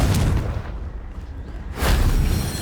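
A Confringo fire spell explodes in the Hogwarts Legacy video game, a loud booming blast with rumbling roar that dips briefly and then swells again.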